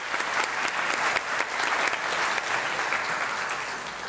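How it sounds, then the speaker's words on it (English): Audience applause at a high school senior walk ceremony, a dense, sustained round of clapping from a large crowd lasting several seconds with no talking over it. "applause."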